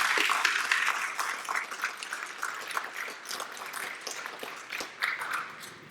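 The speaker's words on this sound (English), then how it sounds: "Let's give them another round of applause." A round of applause at a graduation ceremony for a school for the deaf and blind, moderately distant clapping that swells at first, then thins into scattered claps.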